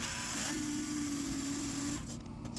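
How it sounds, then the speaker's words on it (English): An oscillating multi-tool cutting out a section of a see-through bee hive, a steady buzzing whine held for about two seconds before cutting off, close and loud with no talk. "We're going to use our multi-tool,"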